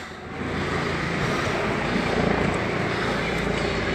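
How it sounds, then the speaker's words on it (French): A continuous low rumble of police helicopters overhead during a Paris street protest on 1 December 2018, steady and broad, blending with distant crowd and street noise. "Les hélicoptères nous surveillent."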